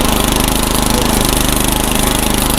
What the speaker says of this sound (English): I don't know if you all can hear me over this rotor tiller or not.